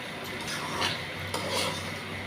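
Moong dal roasting in ghee inside a pressure cooker on low flame, stirred with a spoon that scrapes and rubs against the metal in a few uneven strokes over a soft background hiss.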